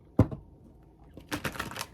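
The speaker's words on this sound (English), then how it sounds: "The shuffling feels so good right now." Tarot cards are shuffled by hand: one sharp tap, then a brief burst of close riffling flutters in a quiet room.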